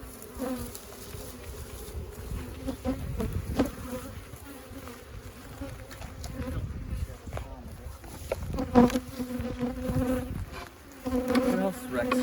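A dense, steady buzz of many honeybees swarming close by, humming continuously with a few louder passes near the listener.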